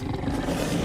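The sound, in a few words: dogs growling in video game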